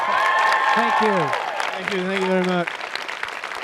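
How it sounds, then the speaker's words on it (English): Audience applause for panelists at a live GRAMMY U summit at Belmont, a steady clapping bed running beneath a voice speaking over it, tapering near the end. "Guys, huge round of applause."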